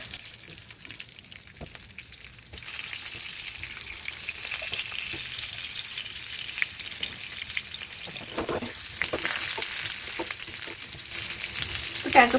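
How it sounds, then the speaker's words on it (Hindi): Potatoes roast with cumin in a pan, making a moderate, steady sizzle that swells after a few seconds. Occasional spatters and stirring clicks sound through it, with no talking. "पोटैटो को हम रोस्ट करेंगे।"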